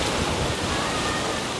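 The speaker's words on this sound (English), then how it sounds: "Those are some of the stronger winds we've had tonight, the stronger gusts." Strong hurricane wind from Hurricane Milton near Disney World in Florida roars in a steady, dense rush of broadband noise, buffeting loudly with no pauses or voices.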